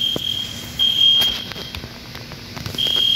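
Fire alarm set off by a burst, gushing water pipe, a steady high electronic tone that drops out and returns over a constant background hum, fairly loud and close.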